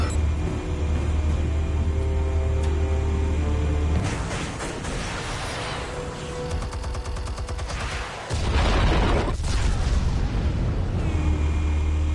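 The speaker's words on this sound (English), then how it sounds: "Explosives armed. Fire when ready." Explosives detonating in a Batman video game: heavy booming blasts with crackling debris, loud and close, with a brief lull before a second big burst and a rumbling tail.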